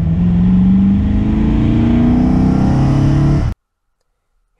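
A 1966 Oldsmobile 442 tri-carb muscle car with a 4-speed accelerates hard, its loud engine climbing steadily in pitch for about three and a half seconds before cutting off abruptly to silence.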